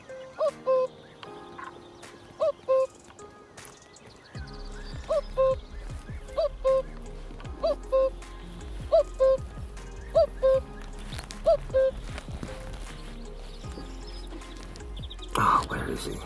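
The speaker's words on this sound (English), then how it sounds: "It was a common cuckoo, I could hear it." A common cuckoo calls in the countryside at Cabranosa near Sagres, Portugal. The two-note calls repeat at a steady rhythm, moderately distant, over a soft background rumble.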